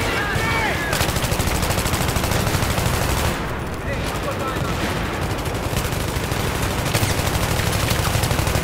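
Rapid automatic gunfire from the video game Battlefield 3 rattles on almost continuously, dense bursts of shots with a few short pauses, loud and close.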